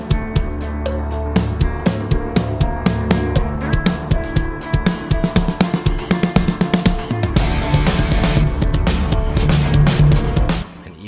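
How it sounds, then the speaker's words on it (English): Programmed drum pattern from Logic Pro's Drummer played through the Damage drum kit, with steady loud hits and dense layered percussion driving continuously throughout, ending abruptly near the close. "individual drum track using the drummer in Logic and then placing the MIDI data on the drum kit of your choice, and it sounds like this now"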